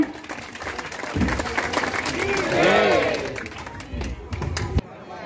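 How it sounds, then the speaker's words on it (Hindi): Guests at a Chhattisgarh engagement ceremony clap in a steady crowd patter with background chatter, while a voice speaks loudly over the middle and the applause cuts off abruptly near the end. "साथ ताली बजाओ"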